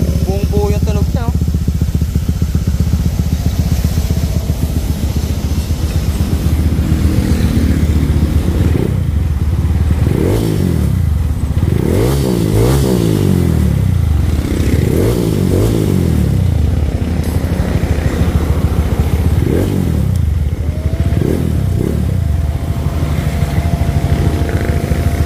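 A Honda Click 200cc scooter with a JVT V3 exhaust converted to TSMP idles loud and close, then revs up in several rising and falling bursts, the engine rumble constant throughout.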